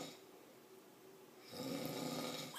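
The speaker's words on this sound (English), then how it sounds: "he's sitting on the couch, snoring" A man asleep on a couch with his mouth open snores, one long, rough, steady breath swelling louder toward the end, faint and close in a quiet room.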